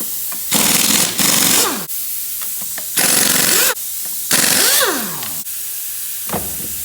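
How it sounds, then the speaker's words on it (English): Air impact wrench removing lug nuts from the wheel of a 1994 Ford F-150 pickup, firing in four loud bursts of hammering rattle, each trailing off with a descending spin-down whine, separated by short pauses of hiss. "You take off the lug nuts if you got an air gun like I do."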